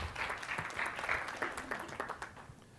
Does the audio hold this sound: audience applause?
yes